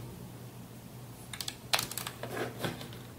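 Fingers tap quickly on a Dell computer keyboard in a gaming setup, a short burst of close, crisp key clicks with no talking.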